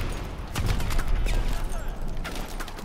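Scattered enemy gunfire in Call of Duty: Advanced Warfare, irregular sharp shots and cracks over a rumbling battle backdrop, moderately loud with no clear rhythm.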